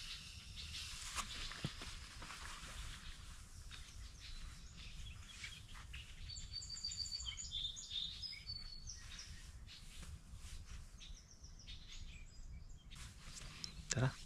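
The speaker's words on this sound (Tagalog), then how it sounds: "Ngayon, pakinggan muna natin mga ibon lang." Faint bird chirps and short calls scattered over a steady outdoor hiss, coming and going at a distance with no talking.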